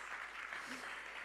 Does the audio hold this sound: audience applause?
yes